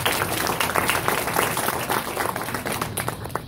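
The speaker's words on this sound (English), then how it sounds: "Let's give Julie a round of applause." A crowd at a library volunteer luncheon applauds with steady, dense clapping that holds evenly for several seconds, fairly near and with no voices over it.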